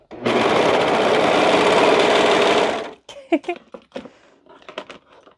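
A sewing machine runs in one loud, steady burst of rapid stitching through fabric for a cardigan, then stops, followed by scattered handling clicks and rustles.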